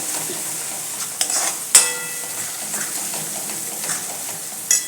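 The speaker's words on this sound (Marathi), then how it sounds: "व्यवस्थित हलवायचं" Mutton masala for a Kolhapuri mutton thali stirred in a pan with oil, a steady soft sizzle broken by a few sharp scrapes and clinks of the spoon against the pan, close by and with no talking.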